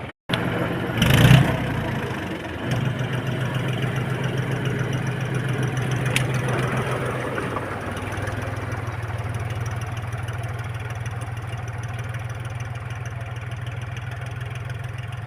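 A tractor engine starts with a loud burst, then settles into a steady, throbbing idle that runs on continuously, close by, on a farm during onion planting.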